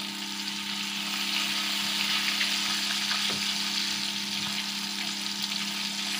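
Fish fillets frying in a pan over a medium flame, a steady loud hiss and crackle of hot oil close by, with a brief tap of a utensil partway through and no talk.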